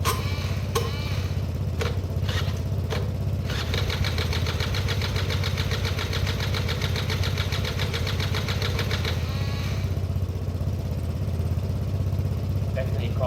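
A Derbi 100cc two-stroke motorcycle on a first start-up attempt, its starter cranking in a steady, loud rhythmic churn for several seconds over a constant low rumble, with a few sharp clicks at the start and a pause near the end.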